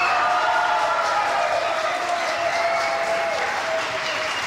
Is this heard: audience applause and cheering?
yes